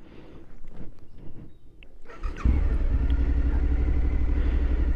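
Engine of a 2021 Suzuki V-Strom 1050 motorcycle starts after a couple of seconds of quiet handling noise, then settles into a loud, steady, close idle with a deep rumble that continues to the end.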